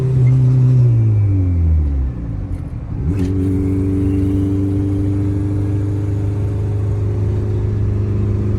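A turbocharged Honda CRX race car engine revs hard, its harmonic drone climbing and dropping through a gear change before settling into a loud, steady boosted roar close by.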